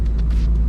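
Idling engine of a Toyota MR-S (MR2 Spyder) warming up, a steady low rumble with a faint throb, close and continuous throughout the short stretch.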